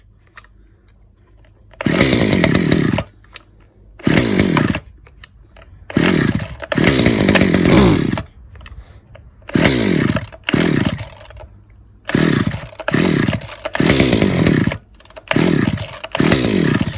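A Ryobi petrol hedge trimmer is pull-started over and over, each pull bringing a short rough burst of two-stroke engine sputter that dies away. Roughly a dozen bursts come in an uneven rhythm, with brief quiet gaps between them.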